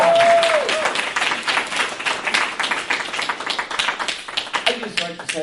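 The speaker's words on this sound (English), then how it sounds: "Let's give Christina, Susan, and Chris another round of applause." A room of people at a recovery meeting clap together, a fairly close, uneven patter of hands that rises and falls for a few seconds, with some voices mixed in.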